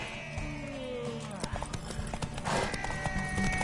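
A horse's hooves clip-clop in a steady run of sharp knocks, set against a busy backdrop of tonal sounds and indistinct voices.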